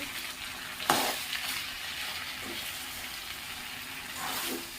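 Ivy gourd fries in a pan and gets stirred, giving a steady soft sizzle with a sharp scrape from the spoon near the start and lighter stirring touches after it.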